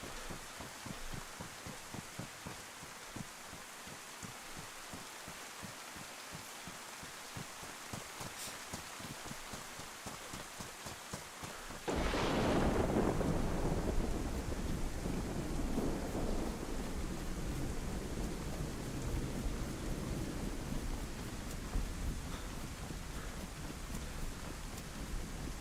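Rain and thunder in DayZ: a dense, steady hiss of rainfall, then a sudden loud thunderclap about halfway through that rolls on and fades into heavier, continuous downpour.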